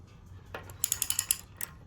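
A ratchet with a socket turns a Honda CB750 crankshaft during a valve adjustment, giving a quick burst of about six sharp, close clicks, followed by one last click after a short pause.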